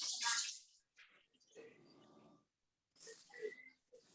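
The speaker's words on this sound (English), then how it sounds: "I'm just gonna wash my hands real quick." Tap water runs and splashes in bursts as hands are washed under it, close and fairly quiet, with pauses and faint clatter between the bursts.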